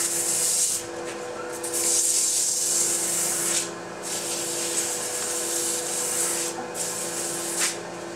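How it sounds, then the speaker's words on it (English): Sanding in a woodworking workshop: steady, close abrasive rubbing strokes come in long passes, broken by brief pauses near four and seven seconds, with no talk. "Bit of sanding."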